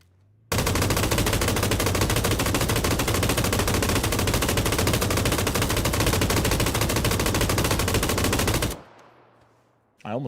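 Sustained automatic fire from an ACE rifle in PUBG, a long unbroken rapid burst of loud gunshots lasting several seconds, then abruptly stopping, leaving a brief quiet tail before another sound starts.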